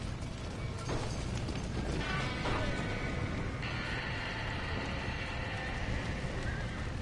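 Horses in Red Dead Redemption clatter and shift nearby, hooves clip-clopping among mechanical rattles and creaks, a busy continuous scene at moderate distance.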